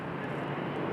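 Otter airplane taxiing at Raleigh Durham airport, a steady broadband engine drone heard from a distance, with no talking.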